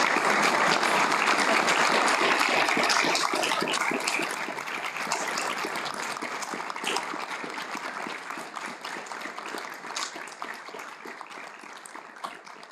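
A lecture-hall audience at a Jorge Peña Hen music chair event gives sustained applause, dense steady clapping that starts full and eases slightly in loudness, heard alone.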